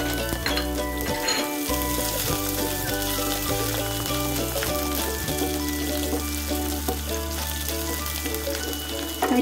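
Chopped shallots and red chillies fry in hot oil for papaya thoran, a loud, steady, close sizzle with occasional stirring scrapes and no talking.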